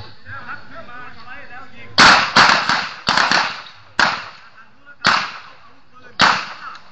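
Six sharp Glock 19 pistol shots ring out at a shooting range, spaced roughly a second apart with a quick pair near the start, loud and close, after a moment of faint talk.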